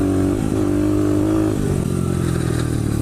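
A motorcycle engine drones loudly and continuously during a ride, its pitch settling lower partway through as the revs ease off.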